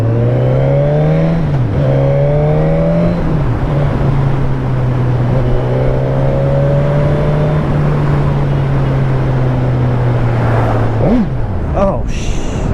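Suzuki GSX-S1000F 1000 cc sport motorcycle accelerating hard, its engine note holding a loud, steady drone with brief dips between gears and a sharp rev rise near the end, mixed with heavy wind rush.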